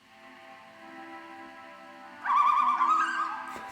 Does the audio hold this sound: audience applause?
no